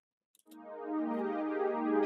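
A soft synth melody from a plugg-style beat with a panning effect swells in after a couple of tiny clicks and then sustains as a smooth, layered tone that holds steady until it cuts off.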